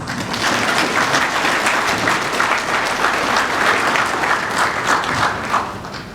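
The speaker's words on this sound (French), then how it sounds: "alors un peu d'applaudissements" Opening-ceremony audience applauding in a large hall, a loud, sustained wash of many hands clapping at once that keeps steady for several seconds before easing slightly at the end.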